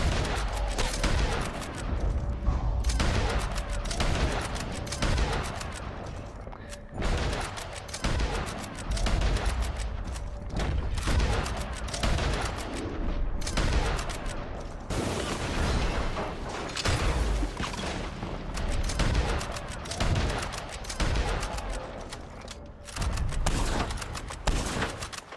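Dense, continuous gunfire in a shooter video game: rapid overlapping shots and booms from several weapons, loud and nearly unbroken throughout.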